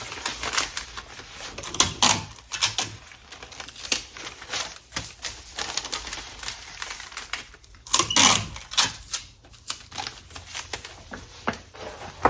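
Packing tape is pulled and pressed onto a folded vinyl record shipping package, with repeated crackly rips and crinkles close by in irregular bursts, the loudest near the two- and eight-second marks.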